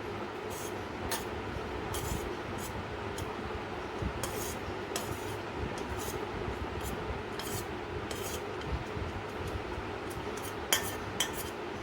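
Dry rice being mixed with drops of yellow paint in a container, a close, continuous gritty rustle and scraping with occasional clinks of a utensil, no talk.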